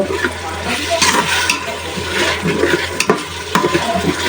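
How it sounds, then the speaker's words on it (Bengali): Spice paste of ginger, garlic and cumin sizzles steadily in a pan for liver curry, a close broadband fry with stirring scrapes and a few sharper clicks. "এখন মশলাটা ভালোভাবে কষানো হোক"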